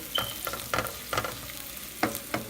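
Minced shallots fry in olive oil for a mushroom risotto, producing a close, soft sizzle punctuated by repeated bursts of spoon stirring and scraping at an irregular rhythm.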